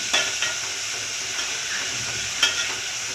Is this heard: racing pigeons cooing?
no